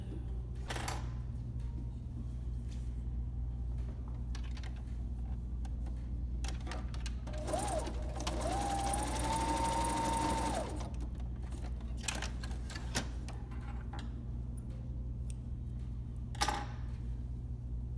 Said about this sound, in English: match it to the side seam and lock stitch that together